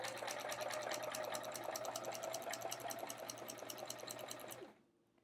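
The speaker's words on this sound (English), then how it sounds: "I am sewing on either side of this line that we've already drawn on here." A sewing machine running steadily while stitching a quilt, a close, rapid, even chatter lasting several seconds before stopping abruptly.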